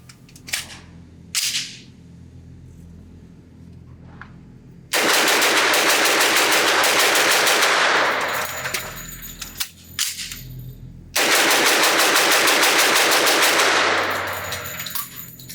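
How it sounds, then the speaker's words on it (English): Rapid bursts of gunfire from a B&T SPC10 Pro 10mm pistol with a duty trigger on a shooting range, a few single shots followed by two long, loud strings of fast fire with a short pause between. "I want to see how fast I can shoot this with this duty trigger"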